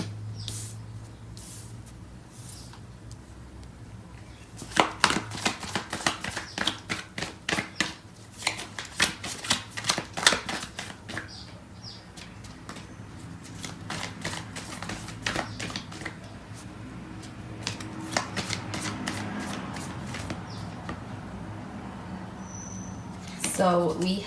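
A deck of tarot cards is shuffled by hand, with rapid riffling bursts and soft clicks coming in uneven waves, close, while a person speaks quietly at times.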